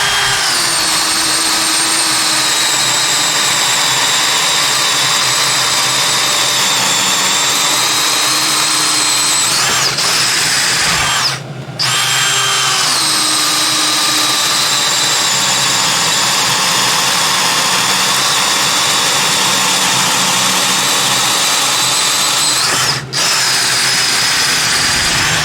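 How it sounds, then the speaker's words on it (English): A DeWalt 20V Atomic cordless drill bores holes in wood, a loud, close, sustained high whine with two brief cut-offs between holes, no talking. "Look at all them sawdust coming out from drilling them holes."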